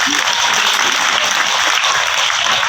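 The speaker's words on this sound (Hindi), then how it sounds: "जोरदार ताली बजाइए" Audience at a village gathering in India applauds loudly, dense steady clapping filling the whole stretch without a break and with no voice on top.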